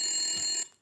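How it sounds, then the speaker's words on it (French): A telephone rings in a TV news studio, a steady electronic bell tone that holds loud for about half a second and then cuts off. "le téléphone sonne, Patrick."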